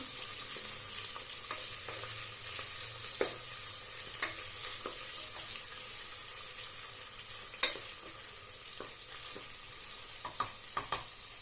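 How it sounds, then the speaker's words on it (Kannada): Sliced medium onions fry in a pan until soft, a continuous gentle sizzle with occasional light scrapes and taps of a spatula, quiet and close, no voices. "ಸ್ಲೈಸಸ್ ಆಗಿ ಕಟ್ ಮಾಡಿ ಇಟ್ಕೊಂಡು ಇದನ್ನ ಹಾಕೊಳ್ಳಿ ಹಾಕೊಂಡು ಈರುಳ್ಳಿ ಸಾಫ್ಟ್ ಆಗೋವರೆಗೂ ಫ್ರೈ ಮಾಡ್ಕೊಳ್ಳಿ"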